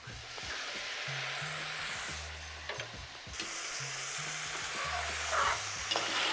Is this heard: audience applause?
no